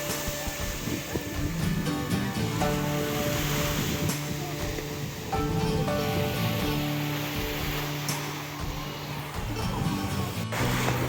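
Sea waves at a busy Odesa beach, a continuous wash of surf mixed with background crowd murmur and other steady tones, moderately loud and unbroken.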